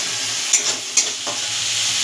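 A spoon stirs spice masala with turmeric, salt and sugar sizzling in oil in a pan, a steady close hiss broken by two or three sharp scraping clinks; no one speaks.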